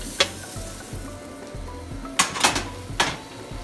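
Chiles and tomatoes toasting on a hot pan, a low steady sizzle punctuated by several sharp crackles and pops, no talking.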